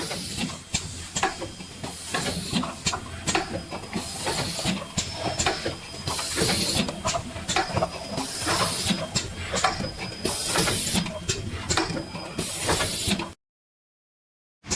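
A fully automatic three-color screen printer for cups running with curing, a loud continuous mechanical hiss and clatter with rhythmic pulses and a faint whine, close up, ending abruptly in silence.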